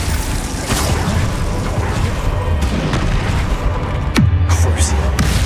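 Confringo spell blasts in the Hogwarts Legacy video game, heard as loud, dense booming bursts with a sharp crack and low rumbling tail near the end, with voices talking over the game throughout.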